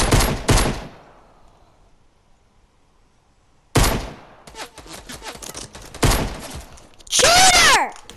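Gunfire from pistols in a PC video game shooting match, heard as sharp loud shots, a couple at first, then a quiet gap, then rapid bursts of firing followed by a ringing, whistling electronic weapon sound.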